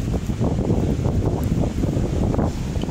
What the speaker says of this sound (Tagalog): Ganda ng dagat, mahangin pati.